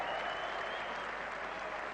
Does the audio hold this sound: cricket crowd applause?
yes